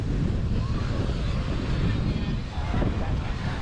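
Sea waves washing in with steady wind at a beach in Playa del Carmen, a continuous broadband rush with low rumbling surf, loud and close with wind buffeting the microphone throughout.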